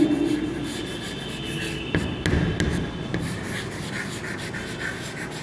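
Writing a number name on a classroom board in a fourth-grade maths lesson, rubbing strokes punctuated by several sharp taps, fairly close and clear over steady background hum, with no voice.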